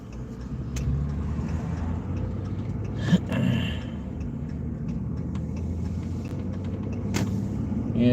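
Cars drive past on a road, a steady, fairly loud engine rumble that swells slightly a few times as vehicles go by, with no talking.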